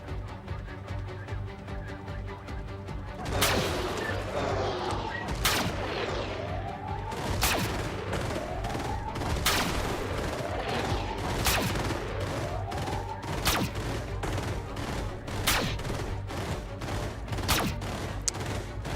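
Gunfire from soldiers shooting at the Phantom alien in the strategy game Xenonauts 2, with repeated sharp shots and booming impacts at steady intervals over a constant loud backdrop.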